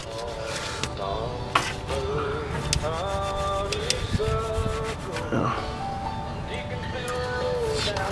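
Brushing and scrubbing grime out of a 1965 Pontiac GTO convertible during detailing, a continuous close rubbing scrape with scattered brief clicks.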